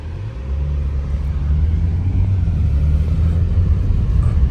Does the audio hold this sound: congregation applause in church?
no